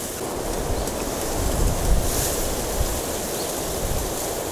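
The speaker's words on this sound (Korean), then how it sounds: "바람은 많이 부는데" Strong wind sweeping across an outdoor fishing spot, a steady broadband roar that swells and gusts throughout with no voices.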